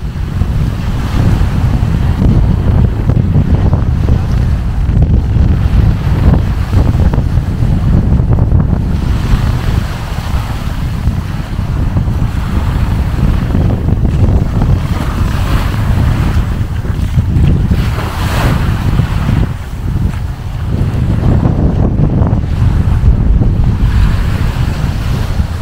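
Strong wind buffets the microphone over constant crashing surf at Phra Nang Beach in Krabi, Thailand, a loud, dense roar that never lets up for the whole stretch, with no talk.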